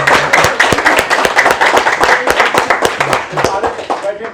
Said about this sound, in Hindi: तो आप लोगों के लिए एक बार जोरदार ताली।